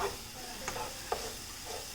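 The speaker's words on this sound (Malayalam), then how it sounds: "ഈ കാഷ്നട്ടും കിസ്മസും കൂടി ഇതിലേക്ക് ഇട്ടിട്ട് ഒന്ന് മിക്സ് ചെയ്ത് കൊടുക്കാം" Fried cashews and raisins stirred into a jackfruit filling in a pan, with a low steady sizzle and a few soft spatula scrapes.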